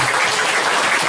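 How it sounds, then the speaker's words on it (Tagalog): Applause from a business presentation audience in 2017, a steady dense wash of clapping filling the whole moment with no gaps. "Palakpak naman tayo."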